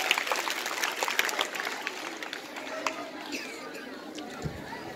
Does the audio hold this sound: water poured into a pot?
no